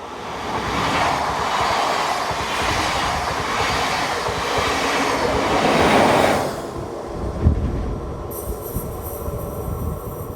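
An ÖBB class 1144 electric locomotive propels a passenger train near Golling an der Salzach station in Austria, a steady loud rolling roar with rail clatter that eases after about six seconds, then a brief wheel squeal and thump.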